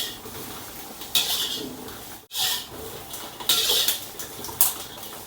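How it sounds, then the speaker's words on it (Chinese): Chili peppers dry-roasted without oil in a pan for tiger-skin peppers give off bursts of scraping and clattering, with several louder rasping strokes and short pauses between them. "我们开火，先把辣椒炕起哈"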